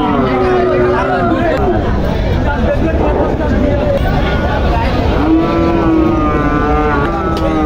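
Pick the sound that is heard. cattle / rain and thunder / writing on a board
cattle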